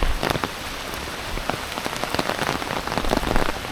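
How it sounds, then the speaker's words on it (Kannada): Steady rain falling in a Western Ghats forest during a monsoon trek, a dense close patter of drops hitting leaves and surfaces, loud and continuous with no voices. "ಆರಂಭದಿಂದಲೇ ಮಳೆ ಸಿಕ್ಕಿದೆ."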